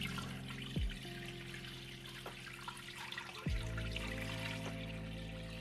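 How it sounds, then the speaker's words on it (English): Tap water running steadily into a cooking pot that already holds a rinsed piece of kombu, the start of a Korean stock; a continuous, moderately close gush with faint clinks, and no talking. "I'm going to fill up my pot with water"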